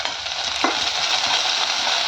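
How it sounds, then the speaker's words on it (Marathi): Cumin and garlic sizzle in hot oil in a kadhai, a loud, close and steady frying hiss with a small clatter as the garlic drops in. "त्यामध्ये तेल टाकून घेतलं, त्यामध्ये जिरं टाकलं, लसूण"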